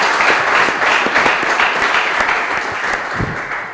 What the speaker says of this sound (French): Alors merci beaucoup d'applaudir Norbert Ndala.